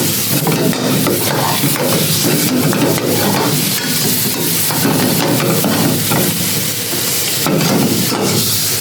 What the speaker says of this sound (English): Prawns are getting nicely roasted on the pan.